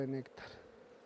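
A short, close buzzing of bees, a steady droning hum for a moment before it fades into a quieter background.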